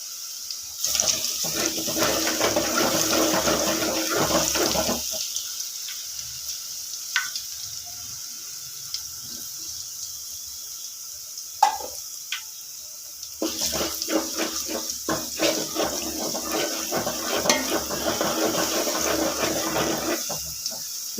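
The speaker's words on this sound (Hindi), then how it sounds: "अभी लहसुन का जो पेस्ट है वो इसमें मैं ऐड कर रही हूँ। अच्छी तरीके से ब्राउन होने देते हैं।" Garlic paste sizzles and browns in oil in a pot while achari mutton salan is being cooked; a steady crackling hiss fades for a quieter stretch in the middle, then returns strongly.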